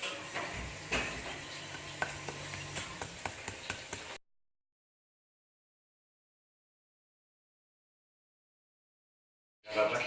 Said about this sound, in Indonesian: Yang pertama kita lakukan adalah menggiling bahan yang harus digiling ini ya.